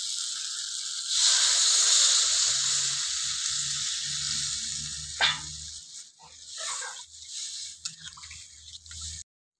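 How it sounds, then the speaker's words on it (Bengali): Water poured into a pan of frying Bata river fish curry with potatoes, giving a loud, steady sizzling hiss that rises sharply then settles into softer bubbling and spluttering as the pan quiets. "আমি এবার এখানে জল দিয়ে দেবো।"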